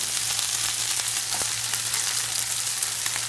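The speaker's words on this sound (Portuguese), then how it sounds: "Agora nós vamos adicionar cebola." Onion hits a hot pan for creamy Sicilian rice and sizzles steadily, a close, bright frying hiss with faint crackles and a low hum underneath, no talking.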